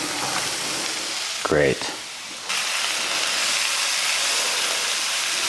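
Beets sauté in oil in a pan with a loud, steady sizzle and hiss, broken by a brief clatter and a single spoken word before the frying noise swells again.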